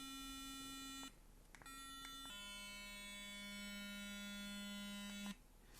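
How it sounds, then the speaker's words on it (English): A Sonicare sonic electric toothbrush switched on gives a steady, high-pitched electric hum that cuts out briefly and restarts, with a shift in pitch between power settings, then stops near the end. "If you look at the Sonic brush, as soon as you turn it on, it makes a cool noise, and hopefully you can hear that here."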